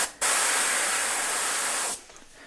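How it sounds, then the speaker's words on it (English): An airbrush test-sprays paint of watery consistency onto a small piece of paper, giving one steady, close, loud hiss for under two seconds, with sharp starts and stops and no talking. "I always test spray a little bit on there just to feel the consistency of the paint"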